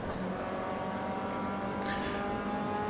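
Full Duratec engine of an MCR 2000 race car in the Automobilista racing game, a steady, loud engine drone with a sustained high whine holding close throughout, no talk.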